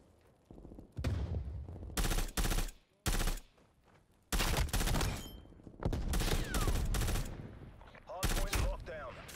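Gunfire in Black Ops Cold War on a desert map, loud bursts of automatic fire separated by short pauses, some quick single shots, close and sharp.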